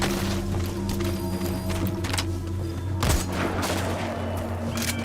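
Gunshots ring out in Metal Gear Solid V: The Phantom Pain, several sharp cracks spaced irregularly over a steady droning game background.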